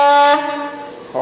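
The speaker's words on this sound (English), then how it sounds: "honks the horn." Horn of a 1957-60 Ford F100 pickup truck honks once, a loud steady harmonic blare lasting about a third of a second, then fading, with a brief second tone starting at the end.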